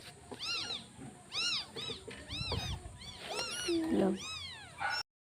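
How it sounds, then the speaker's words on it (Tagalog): A small kitten meows repeatedly in short rising-and-falling cries, close by and fairly loud, with a person speaking softly between and over the calls. "There's a little cat, oh."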